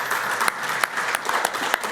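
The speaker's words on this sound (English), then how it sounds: "but a round of applause for Chetan first." A short burst of audience applause for a presenter at a technology talk on edge AI services, steady clapping from a modest crowd with a few sharper claps standing out.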